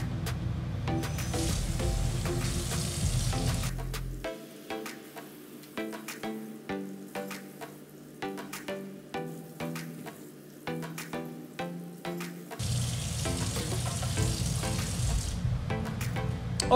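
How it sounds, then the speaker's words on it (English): Water pours and splashes steadily while a swimmer snorkel is rinsed, a loud rushing stream that pauses midway to softer dripping and handling sounds, then resumes. "Okay, so we've just rinsed off our swimmer snorkel."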